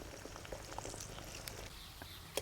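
Hair oil with chopped amla pieces simmering in a kadhai: a faint, steady bubbling sizzle with tiny pops, close by, with no talking.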